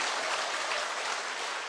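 An audience at a motivational success seminar claps steadily for a short moment, a dense, even wash of applause without any voices.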